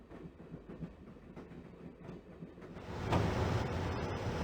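Train running through a Broken Sword video game scene, a steady rumbling clatter of rolling wagons that swells louder toward the end, with no talk over it.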